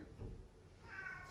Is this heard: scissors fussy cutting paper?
no